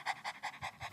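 A person at a preschool imitates a panting dog, with about six quick, even breathy pants in a steady rhythm, close and fairly soft.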